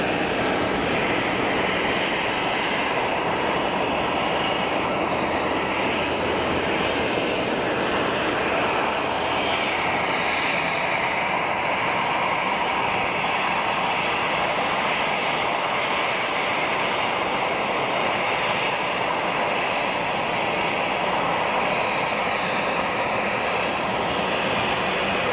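An Algerian Boeing airliner rolls down the runway for takeoff at Geneva Airport, a continuous broad jet roar that stays loud and even throughout, heard alone from a distance.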